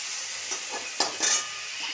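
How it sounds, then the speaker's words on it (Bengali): Chicken pieces frying with a ground spice paste in a pan, a steady soft sizzle broken by a few short scraping stir strokes, close and alone without talk. "এটাকে ভালো করে বাকি চিকেনটার সঙ্গে ভালো করে এই মশলাটা মিক্স করে নিয়ে এরকম এইভাবে হালকা আছে একে ফ্রাই করতে হবে"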